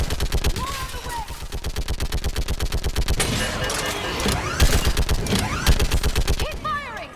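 A mounted gun hammers out rapid, steady automatic fire in Mass Effect, its loud even shots pulsing continuously with other combat noise, while voices call out in the midst of it.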